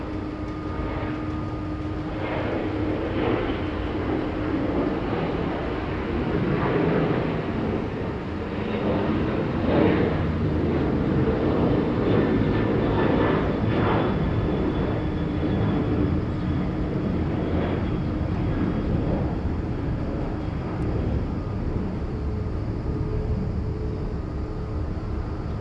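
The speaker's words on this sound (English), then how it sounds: "That plane was a 737-900" Boeing 737-900 airliner at Incheon airport, a steady broadband engine roar that swells and holds for the whole stretch with faint tonal whine on top, fairly loud and constant, no talking.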